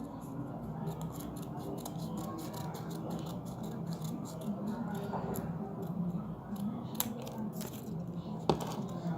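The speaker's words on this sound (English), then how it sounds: "Now take a sticky note and take a scissors. Cut it into a small strip." Scissors cut a sticky note into a small strip, giving quiet, quick rhythmic snipping clicks that repeat close up over faint background noise, with a sharper click near the end.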